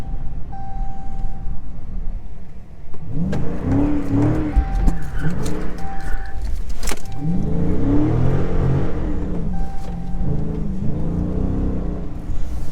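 A Dodge SRT drifting through turns: the engine revs up and down in repeated rising and falling sweeps, close and loud, with tire squeal and skidding mixed in, steady road noise throughout.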